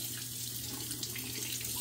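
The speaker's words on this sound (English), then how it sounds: "Rinse is super easy." A Lupo .72 safety razor rinsed under a running tap: a steady, close rush of flowing water splashing into a sink, even and unbroken throughout.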